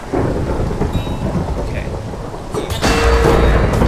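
Minecraft thunder crashes over steady in-game rain, a loud rolling rumble swelling near the end, with a brief spoken word.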